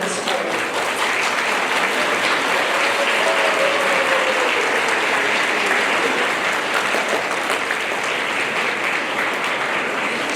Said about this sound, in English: give a big round of applause to your folks who you brought here today